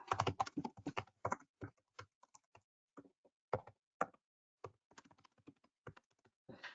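Someone types on a computer keyboard while filling in a form: quick clusters of close, crisp key taps separated by brief pauses, alone in a quiet room.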